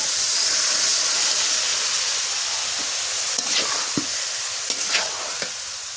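Potatoes and cabbage sizzle steadily in a hot pan with a bright, close hiss, while a spoon stirs them and scrapes the pan in a few distinct strokes toward the end.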